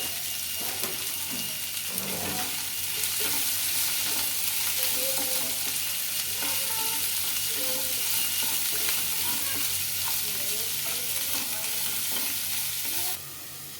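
Continuous sizzling of onions with a little salt frying in a pan, with scraping and stirring noises throughout, steady and fairly close.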